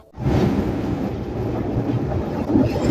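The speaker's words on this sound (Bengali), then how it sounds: "আমাদের খুলনাগামী রূপসা এক্সপ্রেস ট্রেনটি তার দুর্দান্ত গতিতে ছুটে চলছিল" Rupsha Express passenger train bound for Khulna running at speed, heard as a steady loud low rumble and rushing roar from inside or near the carriage, continuous for a few seconds.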